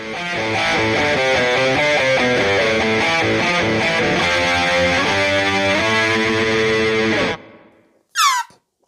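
Electric guitar played through a Boss OD-20 overdrive pedal, a loud distorted chord passage with sustained ringing notes that cuts off abruptly, followed by a brief squeal of feedback.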